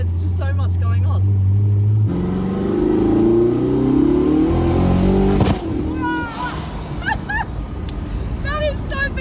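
A fast car's engine roars steadily at close range with a sharp backfire pop midway and turbo sounds, while people talk over the noise throughout.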